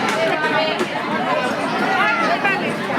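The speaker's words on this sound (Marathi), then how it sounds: "मित्रांनो खूप गर्दी आहे बघा." A large crowd chatters in a dense, steady babble of overlapping voices at a Mahashivratri bhandara, the hubbub filling the space close by with no single voice standing out.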